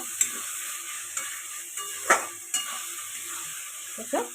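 Tomatoes and ground spices are stirred in a frying pan for a mutton curry. A soft, steady sizzle hisses under a few sparse scrapes and taps of the spoon against the pan.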